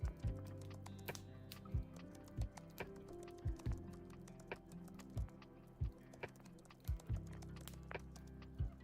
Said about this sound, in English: just to immerse y'all in terms of me typing and stuff, we'll do it that way for today